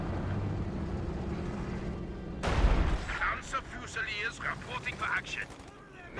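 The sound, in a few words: unit firing in the video game Company of Heroes 2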